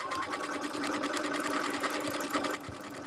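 A domestic sewing machine stitches steadily and continuously at close range, its fast even needle rhythm holding for about three seconds with no talk over it.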